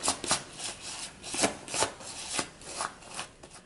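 Sand being scrubbed off the seat of an Apeks drysuit dump valve during cleaning, a series of close, repeated rasping strokes in an uneven rhythm with short pauses between them.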